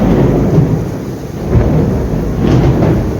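Thunder rumbles steadily through a heavy rainstorm with lightning, a deep continuous roll with louder swells over constant rain, loud and close throughout with no talking.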